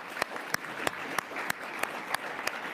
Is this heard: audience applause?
yes